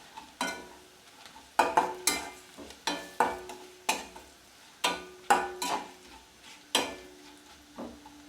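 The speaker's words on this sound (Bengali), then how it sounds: "এটা আবারও একটু আমি নেড়ে দেবো" A spatula stirs turmeric and chili powder into fried onions for lau dal, about a dozen sharp scraping clacks against the pan in an uneven rhythm over a faint steady sizzle.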